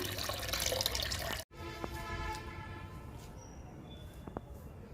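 Bru coffee liquid being poured onto the dry soil of indoor plants, a faint trickle with a few soft drips after a brief louder rush of water at the start.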